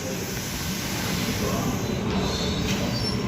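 A Sydney train rolls along the platform at Central station, a loud, steady rumble of wheels on rails with a faint high squeal above it.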